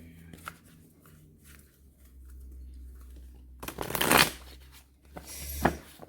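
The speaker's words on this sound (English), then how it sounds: "Okay, let's just do one more shuffle." Cards being shuffled near the microphone, a soft riffling that builds into two sharp bursts of flapping cards.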